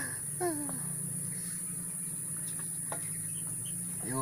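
Two-month-old mini Muscovy ducklings give a few faint, high peeping calls, scattered through the stretch over a steady background hum.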